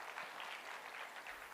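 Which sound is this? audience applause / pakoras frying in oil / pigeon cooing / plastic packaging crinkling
audience applause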